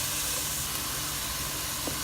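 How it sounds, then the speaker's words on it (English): Three cups of rice go into a hot pan over a high flame with capsicum for chicken fried rice, giving a steady, even hiss and sizzle that carries on without a break. "So now here goes in the rice, with 3 cups of rice."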